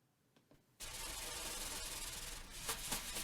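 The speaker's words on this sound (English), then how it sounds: "Brushes on the drums, right? So brushes on the snare drum." Brushes swish steadily across a snare drum, a continuous close scratchy wash after a quiet start, with a couple of sharper accents near the end.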